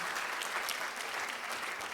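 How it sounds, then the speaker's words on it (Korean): Sustained applause from delegates at a cooperative's annual general assembly in Seoul, many hands clapping in a dense, even patter that fills the hall. "다시 한번 큰 박수 부탁드립니다"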